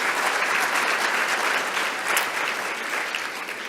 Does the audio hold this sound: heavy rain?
no